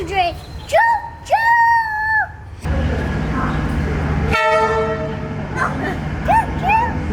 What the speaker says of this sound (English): Now comes the choo-choo train.